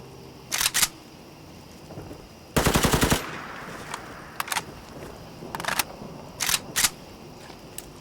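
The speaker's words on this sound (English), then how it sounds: "look how cool that reload is" Bursts of automatic gunfire from an AK400 rifle in Fallout 4, several short volleys and one longer burst, with mechanical reload clicks and clunks between them, loud and close.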